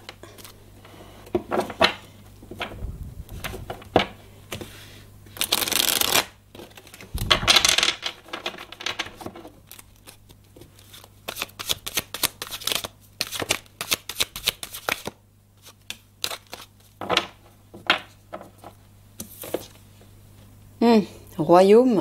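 Tarot cards are shuffled for a second reading in repeated riffling bursts with brief pauses, close and fairly loud, while a voice speaks between the shuffles.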